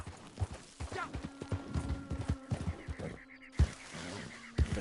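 Horse hooves clip-clopping in Red Dead Redemption Online, a quick uneven series of close thuds that carries on throughout, with a brief pause and some faint background sounds.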